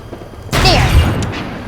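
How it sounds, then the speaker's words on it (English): A loud explosion bursts suddenly in the voxel destruction game Teardown, a heavy boom whose debris rumble sustains and slowly fades. "there's lots of explosions going on"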